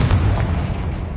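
A Confringo blasting spell exploding in Hogwarts Legacy, a single loud, close boom with a heavy low thump that rumbles and fades over about a second.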